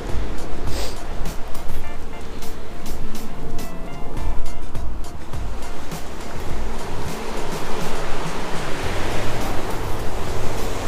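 Steady broadband roar of waves breaking along the shore at Filey Brigg, North Yorkshire, as the tide comes in, loud and continuous with gusty wind noise throughout.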